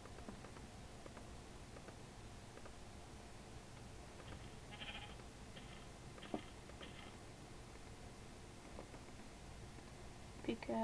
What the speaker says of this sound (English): Was that a sheep? I think it was a sheep.